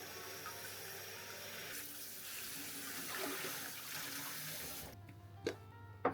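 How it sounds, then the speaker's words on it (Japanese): Tap water runs steadily into a sink while napa cabbage leaves are rinsed, a continuous close splashing flow that cuts off near the end, followed by a few faint clunks. "外側の葉など土がついている場合があるので、さっと洗い流します。"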